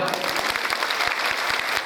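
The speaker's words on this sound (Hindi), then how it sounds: "इस बात की ताली है तो एक बार जोर से बजाओ" A crowd at a religious discourse claps loudly in a steady, rhythmic unison beat, dense and close.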